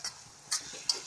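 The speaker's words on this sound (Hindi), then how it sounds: "अब इसको हम अच्छे से पका लेंगे, जब तक कि हमारा टमाटर गल ना जाए" Pav bhaji masala with tomato cooking in a pan, heard as three quick, sharp spatula scrapes against the metal over a faint background sizzle, close and brief, without speech.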